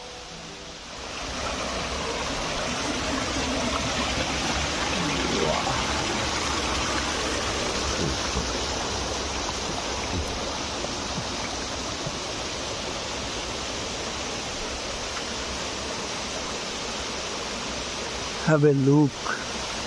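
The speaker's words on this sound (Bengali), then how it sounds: "এই জল বয়ে যাচ্ছে সীতাকুণ্ডের, আর ওই পিছনে সীতাকুণ্ড ওয়াটারফল" Water rushes steadily past near Sitakund waterfall in Baripada, a broad continuous wash of stream and falls that holds evenly throughout, with a person speaking over it and brief handling noise near the end.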